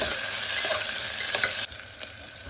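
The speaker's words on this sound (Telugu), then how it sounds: "కొంచెం కలుపుకొని ఫ్రై చేసుకోవాలి." Onions and green chillies stir-fried in hot oil for a potato curry, a steady close sizzle with soft spatula scrapes that drops a little quieter partway through, no voices.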